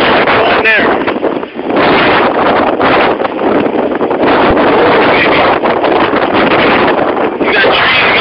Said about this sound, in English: Here's a gust.